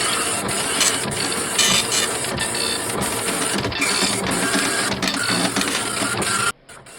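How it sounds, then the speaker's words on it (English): Printer under an office desk running a long print job, a loud rapid mechanical chattering and ratcheting with regular clicks, continuing steadily for several seconds before cutting off abruptly. "a printer under the desk started up."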